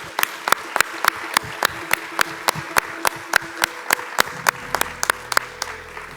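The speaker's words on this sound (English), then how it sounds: "A big round of applause for all of them." Steady, regular clapping at an education festival awards ceremony for university senior and principal fellows, sharp evenly spaced claps like a single pair of hands or small group, fairly close, with a low hum entering near the end.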